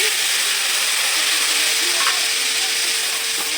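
Spice mix frying in a pan over low heat, a dense, steady hiss of sizzling oil with a few faint stirring knocks, close and continuous, no one speaking.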